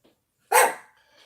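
A single sharp dog bark sounds close by indoors, loud and brief, fading quickly after it with brief quiet before and after.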